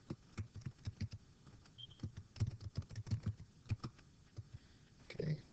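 Quick bursts of computer keyboard keystrokes as a site name is entered, irregular clicks tapping close and fairly quiet, with a brief pause before a final flurry.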